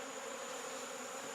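Bees buzz in a steady, close drone that holds without pause, with no voices over it.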